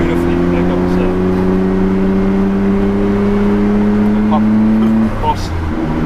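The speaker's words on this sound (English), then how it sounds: "the straight six sound is like unbeatable. They rev beautifully" An R34 Nissan Skyline GT-R V-Spec II's turbocharged straight-six engine drones loudly and steadily, pitch climbing gradually as it revs, then drops off near the end; close and continuous.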